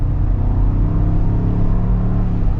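A 2023 Ford Bronco Wildtrak with the 3.0 engine, in four-wheel auto, pulls under partial throttle, giving a loud, steady, close interior engine drone and rumble with no talking.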